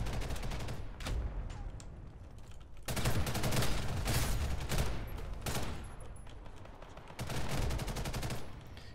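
Rapid gunfire in a first-person shooter, fired from a weapon with an optic and heavy recoil: loud, dense bursts and sustained volleys of shots, with short pauses between strings of fire.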